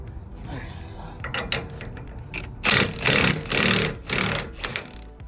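A wrench works loose a leaf spring shackle bolt on a Toyota Tacoma, giving rapid ratcheting bursts in several short runs, close and fairly loud, with a voice heard at times.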